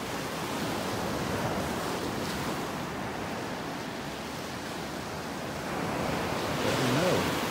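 Ocean surf washes steadily onto a beach in North Naples, Florida, under an overcast, cool sky: a continuous broad hiss and roar with light wind buffeting, swelling slightly toward the end.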